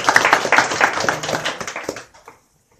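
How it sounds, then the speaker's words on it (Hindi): An audience at a Varanasi tuition bureau's first foundation day event claps hands in welcome for a finance company director: a dense, close burst of clapping for about two seconds that stops abruptly, followed by silence. "इनको भी जो तहे दिल से ताली स्वागत करिए।"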